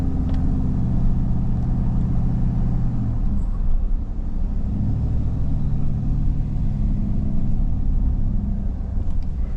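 A Chevrolet Silverado pickup driving a narrow road by Whitefish Bay in northern Michigan, heard from inside as a steady, loud low engine and tire rumble with no break.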